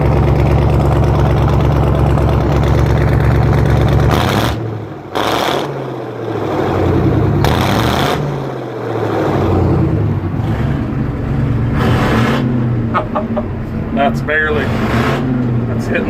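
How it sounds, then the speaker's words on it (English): Versatile 700 tractor diesel engine revved hard a few times, loud bursts of low roar rising and dropping back between pulses, with some talk mixed in. "I'll just gun her a couple times. You can hear the nice snap."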